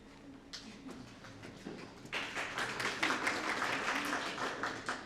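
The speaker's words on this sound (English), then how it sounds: "I'm not fancy enough to deserve that round of applause" Audience at a press conference for a solar co-op launch claps: light scattered clapping at first, swelling into steady, moderately distant applause that continues to the end.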